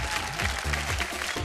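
A studio audience breaks into steady applause to welcome a contestant from Ranchi on a televised women's game show, the clapping dense and continuous for the whole short stretch, with music tones underneath.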